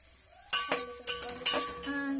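Bay leaves and ginger frying in a pan for jeera rice, with sharp metallic clinks and scrapes of a spoon stirring against the pan over a faint sizzle, close and alone.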